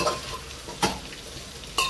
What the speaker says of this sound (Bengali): এটা ভাজা হচ্ছে চাউমিনে দেওয়ার জন্য।